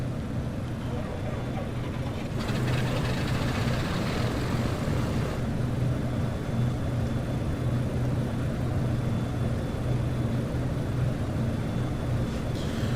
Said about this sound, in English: Let's get the left engine started.